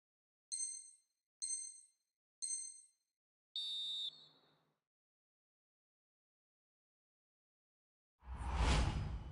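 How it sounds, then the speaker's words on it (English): A referee's final whistle in the EA FC 24 football game: three short shrill blasts and then a longer fourth blast, clear and alone, followed after a pause by a rising whoosh of crowd noise. "And there goes the final whistle."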